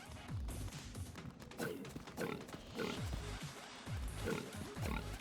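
Pigs in a video game pig race oink and grunt in short repeated bursts, several close squeals and snorts tumbling over one another.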